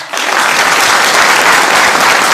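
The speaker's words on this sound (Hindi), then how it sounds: "नाम लेते ही ताली" An audience breaks into loud, dense applause at a business success-story talk, starting abruptly and holding steady and full for a couple of seconds with no voices over it.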